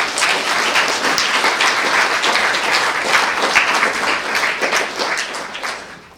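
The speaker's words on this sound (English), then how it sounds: "May we have a round of applause" Sustained applause from an audience filling a school hall at a student event, steady dense clapping that holds for several seconds and then tapers off near the end, with no talk over it.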